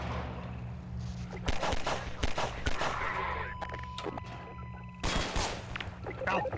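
Gunfire in the video game Half-Life 2, with repeated sharp shots in clusters over a steady game hum and a held tone, loud and close.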